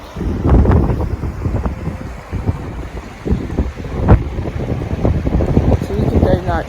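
Gusty wind buffets the microphone in heavy low rumbles while someone talks over it, on a hill walk in Glen Callater, Scotland.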